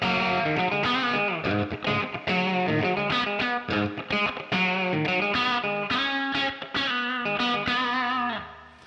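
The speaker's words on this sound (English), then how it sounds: "this kind of reverb comes from reverb tanks that have springs reverberating in them" A driven electric guitar amp plays through a NUX Verb Core Deluxe spring reverb pedal, a busy distorted riff of rapid notes and chords with a short springy wash, loud and continuous before fading out at the end.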